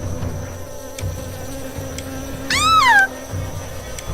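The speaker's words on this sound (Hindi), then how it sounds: "कुछ मधुमक्खी निकली और उन सभी के आसपास मंडराने लगी।" A steady, droning buzz of bees swarming and hovering runs through the whole stretch, with a sharp, wavering meow-like cry rising briefly near the end.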